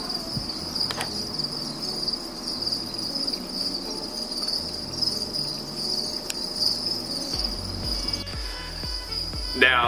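Dense, loud chorus of crickets chirping continuously inside a cricket farm container, a shrill layered trill filling the space, with some faint handling knocks beneath.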